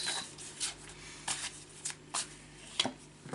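Tarot cards are shuffled by hand in short, soft riffling bursts, several quick flutters spaced over a few seconds in a quiet room, with no talking.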